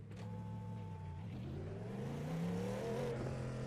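Cadillac prototype race car engine in the racing game Le Mans Ultimate, a steady low droning tone that climbs in pitch as it accelerates, heard fairly quietly.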